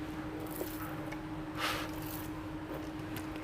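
Pieces of pork neck are dropped into a marinade, making a soft, wet squish up close, heard alone against a steady background hum.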